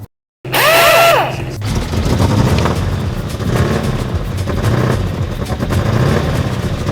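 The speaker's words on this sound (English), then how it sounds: "So the car's starting, but as you can hear, it sounds rough." A Mini Cooper R50 engine cranks with a loud starter whine after a brief silence, catches, then settles into a rough, uneven running note that continues steadily up close.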